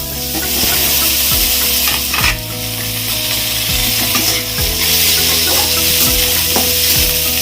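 Onion, garlic and ginger frying in a pan, a loud, constant close sizzle with a spatula scraping and knocking at intervals of a second or two.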